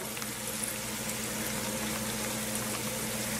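Potato malai koftas cooking in oil in a pan, a steady close hiss and fine crackle of frying that holds evenly throughout without speech.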